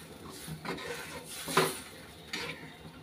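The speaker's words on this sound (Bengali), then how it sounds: "নাড়া দিয়ে দিলাম।" Jute greens being stirred in a cooking pot with a metal utensil, a few distinct scraping clanks against the pot over a faint background, close and fairly quiet.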